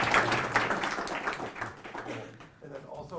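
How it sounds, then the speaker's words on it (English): An audience at a talk on AI applications and memory systems applauds to welcome the speaker, the clapping thinning out over a few seconds with voices over it. "please have a warm round of applause to welcome our speaker"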